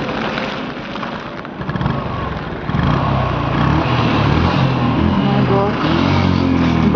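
A motorcycle engine works a rough, rocky off-road mountain track near Lachung's Zero Point, its steady drone growing louder and fuller partway through and holding close and continuous.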